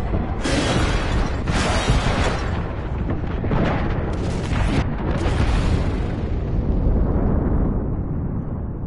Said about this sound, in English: Calling the airstrike.